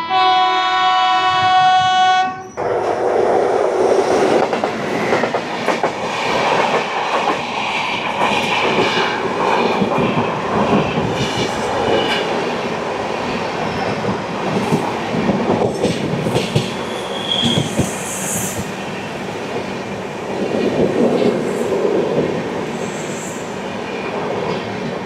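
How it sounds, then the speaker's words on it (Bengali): A Shatabdi Express passenger train rushes past close by on an Indian line, opening with a long loud horn blast, then a sustained roar of wheels and clattering wagons with occasional squeals for about twenty seconds. "চোখের সামনে দিয়ে ট্রেনটা বেরিয়ে গেল"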